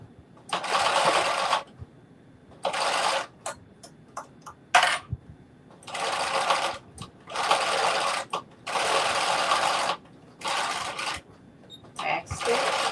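A sewing machine back stitches the final seam of a caftan in a series of short, loud bursts separated by brief pauses and light clicks close by.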